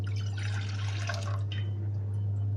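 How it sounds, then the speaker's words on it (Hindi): Water splashes and trickles into a cooking pot for about two seconds while a steady low hum runs underneath, then the pouring fades out. "सबसे पहले हम इसमें पानी डालेंगे।"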